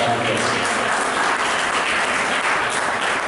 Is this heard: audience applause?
yes